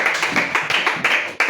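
Church congregation at a children's Sunday school service rising to its feet and applauding, a dense, steady patter of many hands clapping together in a reverberant room, with a few louder surges.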